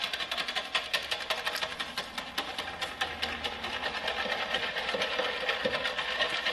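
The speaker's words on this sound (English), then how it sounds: "You want to make sure you get this whisked together really well so there's no clumps." A whisk beats banana pudding mixture in a bowl with fast, steady, rhythmic ticking that continues without pause.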